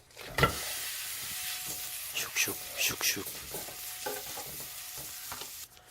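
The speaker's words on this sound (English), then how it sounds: "Put the sesame oil. Frying sogogi." Beef (sogogi) sizzles and fries in sesame oil in a pot for a Korean beef stew, a steady hiss with stirring scrapes and a few clatters throughout, and brief speech in the background.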